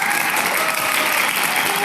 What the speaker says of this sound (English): Can we get a round of applause for our wonderful panel?